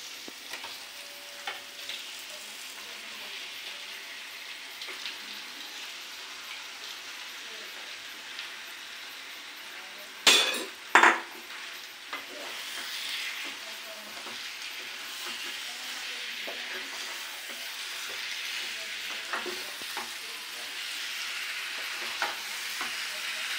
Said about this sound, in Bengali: এবার দেখুন মাংসটা দিয়ে দিচ্ছি।